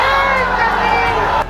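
A dense crowd shouts in a clash between a street procession and people pouring out of a mosque in Mhow, Indore, during celebrations of a Champions Trophy win. The many voices are loud, close and continuous, and the clip is brief.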